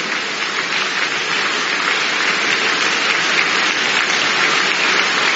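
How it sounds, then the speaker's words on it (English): Church congregation at a holy communion service applauding steadily, a dense, continuous wash of many hands clapping at once, loud and sustained throughout with no pauses. "Come on, clap a little more."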